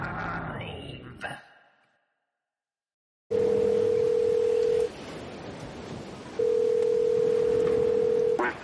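Steady telephone tones sound on a line ahead of a not-in-service recording: a first tone of about one and a half seconds, a short gap, then a second, longer tone, loud and close.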